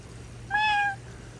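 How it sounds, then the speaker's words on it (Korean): A single clear cat meow, drawn out for about half a second, standing out against a quiet background hum. "고양이 소리가 들리길래"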